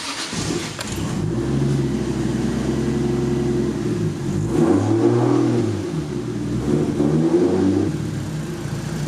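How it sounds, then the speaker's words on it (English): A Toyota Supra engine runs close by after starting, holding a low, steady idle that rises and dips several times through the clip. "third one it should fire up and idle really low"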